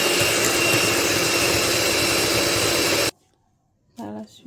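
An electric mixer whirs loudly and steadily for about three seconds as it blends cookie dough with egg yolks, then stops abruptly. A short silence follows before a voice begins speaking.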